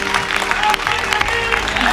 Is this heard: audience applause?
yes